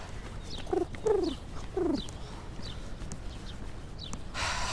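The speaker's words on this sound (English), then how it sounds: "We got pigeons for now." Pigeons coo in soft, repeated phrases on a morning walk near Central Park in New York, with light city background noise and a brief rush of noise at the end.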